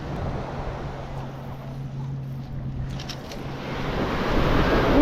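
Ocean waves wash onto a Gulf beach shore at Manasota Key, a steady broadband surf roar with wind on the microphone that swells louder toward the end, no voices present.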